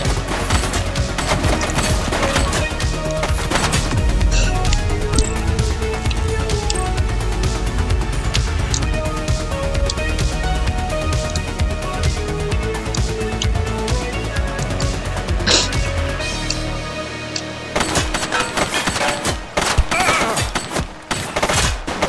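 Dense, continuous gunfire from The Precinct, bursts of rapid automatic shots and single cracks layered loud and close for most of the stretch, thinning into a few sharp isolated shots near the end.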